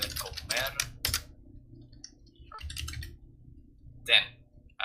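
Keystrokes on a computer keyboard while typing code for a Minecraft plugin, coming in short clustered bursts of clicks with pauses between them, under a voice that keeps talking over them.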